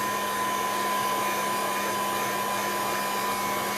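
A hair dryer blows steadily on a decoupage mixed media artwork, a continuous close, loud whirring with a constant hum that holds without a break the whole time, no talking over it.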